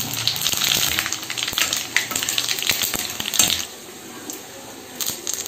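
Whole cumin seeds sizzle and crackle in hot oil in a wok alongside frying dried red chillies, a close, busy spatter of pops and hissing that eases toward the end.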